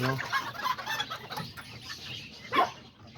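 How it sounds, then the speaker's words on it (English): Small serama or Azteca chickens cluck outdoors among roosters, a few short close calls with one sharper squawk near the end, over faint background noise. "Yeah, that's one of the little chickens"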